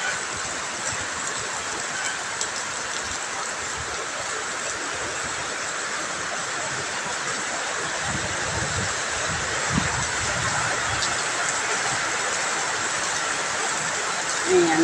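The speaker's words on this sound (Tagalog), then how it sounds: "Malakas na ulan." Heavy rain pouring down, a dense, constant hiss that fills the whole stretch at an even level, with faint low rumbles beneath and no clear voices.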